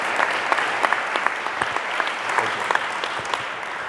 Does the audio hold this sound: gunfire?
no